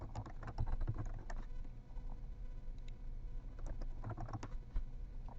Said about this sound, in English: So I'll type that in.